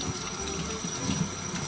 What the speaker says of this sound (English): Now, when I'm washing it out, I wanna use lukewarm water so I don't shock the plant with super cold water.